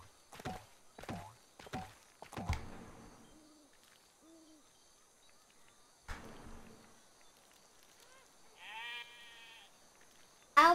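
A sheep in the Lego Worlds video game gives a wavering, bleating cry late on. Earlier come sharp clicks and soft game effects, all fairly close and moderate in level.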